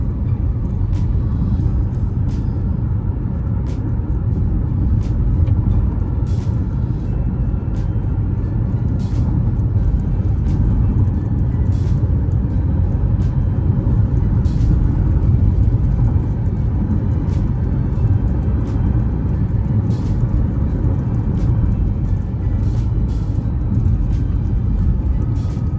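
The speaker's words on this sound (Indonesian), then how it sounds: "Ini saya pacu mobil dengan kecepatan tinggi di jalan tol beton." Steady, unbroken road and tyre roar fills the cabin of a Mazda CX-5 driven at high speed on a concrete toll road, a dense low rumble with faint ticks and no talking.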